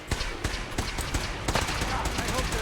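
Rapid bursts of gunfire in the video game Fallout 4, sharp repeated shots in quick succession with a dense, rattling rhythm throughout.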